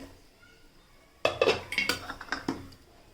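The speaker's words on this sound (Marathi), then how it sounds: "आपण ह्यावरचं झाकण काढून घेऊयात" After a quiet start a metal lid is lifted off a cooking pan, followed by a run of clanks and clinks of metal against metal, close and fairly loud.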